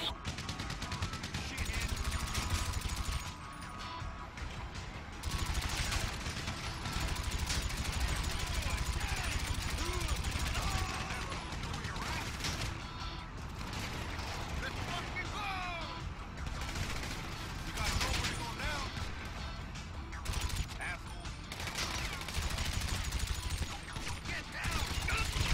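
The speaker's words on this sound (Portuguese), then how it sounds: "tem um cara me atirando, eu não tô vendo da onde" Gunfire from the video game GTA V, with repeated shots and bursts scattered through a busy game mix and people talking over it.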